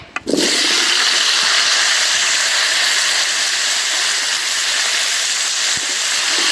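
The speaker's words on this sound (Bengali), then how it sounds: "এই আলু একটু ভাজা নিলে ভালো হয়।" Potatoes dropped into a wok of hot oil left from frying fish set off a sudden loud sizzle that settles into a steady, strong hiss lasting to the end.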